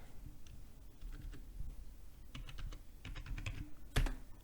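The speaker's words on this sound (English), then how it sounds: "Now let us once again type kubectl get nodes." Someone types a short command on a computer keyboard, quick irregular key clicks in bursts, close and clear, ending with a firmer keystroke.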